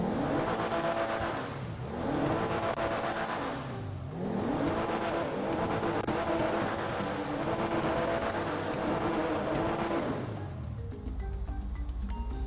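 A Pfister Comet sports car engine in GTA Online revs hard and repeatedly, its pitch sweeping up through gears with brief dips between, loud and close, ending in a low idle.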